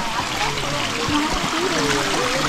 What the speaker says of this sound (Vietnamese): suối vào mùa mưa.